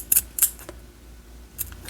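Small scissors snip crochet cherry blossom stamens, three or four crisp close-up cuts in quick succession with short pauses between them.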